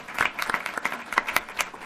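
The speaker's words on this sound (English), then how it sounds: "So they deserve a round of your applause for all they've done" A small group applauds at a school board of education meeting, sparse individual claps rising and falling unevenly over a couple of seconds, fairly close and moderate in volume.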